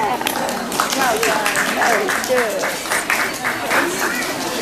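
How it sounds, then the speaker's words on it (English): An audience at an outdoor appearance of Bjorn the Polar Bear in Congleton claps in a steady round of applause, with children's and adults' voices chattering through it. "Shall we give them a big round of applause?"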